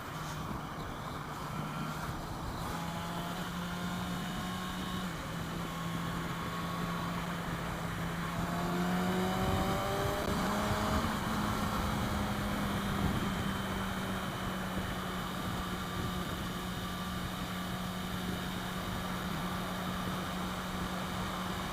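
A Hyosung Comet 250 motorcycle cruises on a highway, its engine droning steadily under heavy wind rush that swells and eases, with a shifting engine tone partway through.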